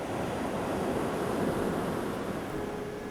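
Ocean surf rolls continuously onto the shore of Balut Island, a steady broadband wash of waves mixed with wind noise, with no voices.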